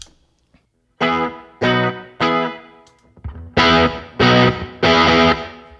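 Electric bass played through an Ampeg-voiced SFT pedal with its EQ set flat: six sustained, gritty notes in sequence, each starting sharply and ringing thickly before cutting off, close and prominent with no talk.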